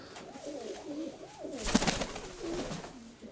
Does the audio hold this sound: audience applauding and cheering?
no